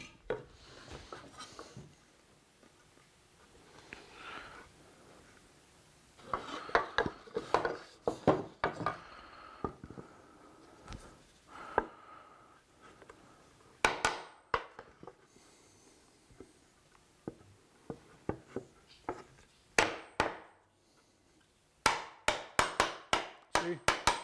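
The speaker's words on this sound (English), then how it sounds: "now we'll try putting this joint together" Hand-cut wooden dovetail joint fitted together: a quiet run of irregular wooden taps, knocks and scraping clicks, clustered in bursts with brief pauses, ending in a rapid series of sharp taps.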